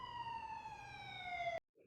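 A police siren from a Mad Men television episode, a single steady wailing tone held for about a second and a half before cutting off abruptly into silence, fairly faint.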